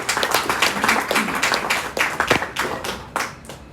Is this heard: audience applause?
yes